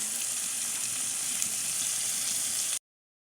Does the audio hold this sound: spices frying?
yes